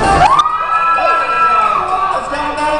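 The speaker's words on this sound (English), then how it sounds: "Let's give a round of applause to our other 2 contestants here" An audience at a speed eating contest whoops and cheers loudly for the contestants, with a sustained shrill shout rising over a dense crowd roar.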